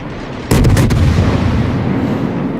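Naval guns fire in World of Warships: a sudden loud burst of booming artillery shots starts partway in, several rapid blasts followed by a sustained rumbling roar that lingers to the end.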